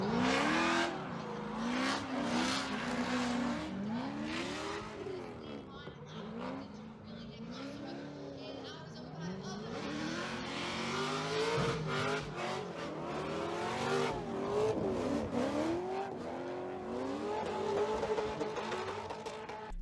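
Drift cars slide through a real-life drifting event, engines revving and wailing up and down with tire noise, loud and continuous, with the announcer's commentary woven underneath.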